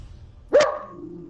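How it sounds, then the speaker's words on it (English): A pet dog indoors gives a single sharp, loud bark at a child outside, close to the listener, with quiet room tone before and after. "I see what my dog is barking."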